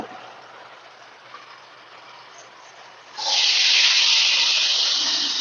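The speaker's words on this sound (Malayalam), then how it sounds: "അപ്പോൾ അത് ഇട്ട് കൊടുത്തിട്ട് ഒന്ന് മൂപ്പിച്ചെടുക്കാം" Ingredients hit hot oil in a pan for a Kerala-style stir-fry. A sudden loud sizzling hiss rises out of quiet background noise and holds steady, close and bright, with no talking.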